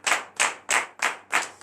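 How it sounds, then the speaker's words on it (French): A congregation at a morning prayer service claps in acclamation, five sharp, evenly spaced rhythmic claps together, close and clear with no talking. "Donnez l'acclamation à Jésus."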